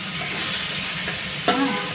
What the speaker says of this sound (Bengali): একটু লাল করে ভাজতে হবে উচ্ছেটা